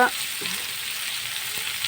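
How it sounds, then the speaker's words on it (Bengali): Potatoes fry in a pan with a steady, broadband sizzle that fills the whole stretch at an even level, with a brief clink of utensil contact near the start. "দিয়ে হালকা ফ্রাই করে নেবো"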